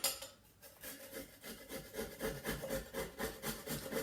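Frozen ginger is rubbed quickly against a grater in rapid, even scraping strokes, close and fairly quiet, with no talk.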